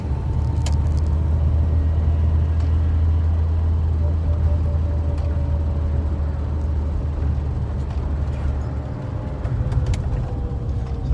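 A 42-year-old Austin Allegro drives along with a steady, loud engine drone and road rumble that stays close and constant, with no talk over it.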